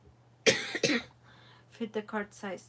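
Two sharp coughs come close to the microphone at a cardmaking session, followed by a short line of speech with a faint steady hum underneath.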